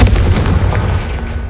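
A Confringo fire spell blast in Hogwarts Legacy, a loud, dense booming burst that rolls on with heavy low rumble and crackle across the whole moment, with no speech over it.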